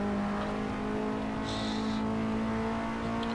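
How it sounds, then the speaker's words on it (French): A KTM X-Bow race car engine drones steadily on track, a constant mid-distance hum with no clear revving peaks, running alone for a few seconds. "c'est vrai qu'il est vraiment sympa le son de cette KTM X-Bow"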